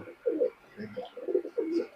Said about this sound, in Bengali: সেই দুইটা মেল কবুতর হলো এই দুইটা মেল